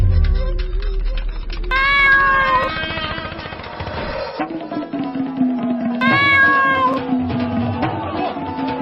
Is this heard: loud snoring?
no